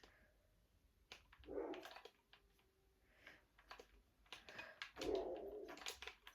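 A pet dog barks in short bursts indoors during a gaming session, two clusters of sharp barks a few seconds apart, moderately close against a quiet room.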